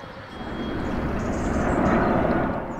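An airplane passes close overhead with a loud, steady engine roar that swells slightly over a few seconds, heard on its own without talk.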